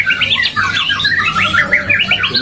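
A male white-rumped shama calls loudly and close by at a bird market, a rapid run of bright, varied whistles and harsh squawks repeating without pause.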